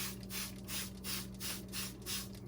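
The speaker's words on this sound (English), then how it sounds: "Spraying this hydrogen peroxide, we are trying to eliminate everything that will hurt our orchids." Hydrogen peroxide spritzed from a hand spray bottle over potted mini Phalaenopsis orchids during repotting, heard as five or six soft, evenly spaced hissing bursts close by over a steady low hum.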